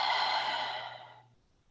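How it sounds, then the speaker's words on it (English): A long, breathy exhale pushed out through the mouth, steady and close for about a second before trailing off into quiet, with no talking. "exhaling out your mouth"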